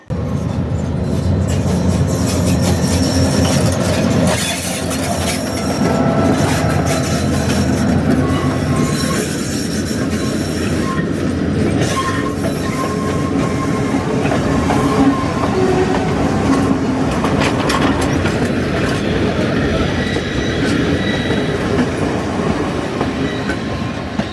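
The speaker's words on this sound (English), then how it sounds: "If you see any shots of the train passing, then you know the answer." A train in Sri Lanka rumbles past at close range, steady and loud, with wheels clattering and occasional metallic squeals over a continuous heavy roar.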